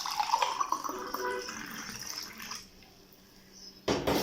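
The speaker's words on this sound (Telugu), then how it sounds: "ఇందులో వాటర్ వేస్తున్నాను." Water is poured over ice into a glass of summer juice, a rising trickling pour that stops partway, followed by a short quiet gap and a brief splash at the end.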